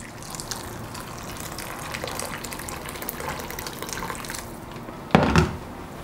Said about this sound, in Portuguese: Agora a gente acrescenta 2 xícaras de chá de água.